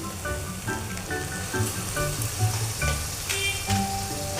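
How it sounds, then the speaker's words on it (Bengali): Fish curry masala with turmeric and salt sizzles in a pan over a clay stove, a bright crackling hiss with brief spatters, while faint tonal sounds play in the background. "হলুদ গুঁড়ো আর লবণ দিয়ে একটু ভালো করে নেড়ে চেড়ে নিয়ে"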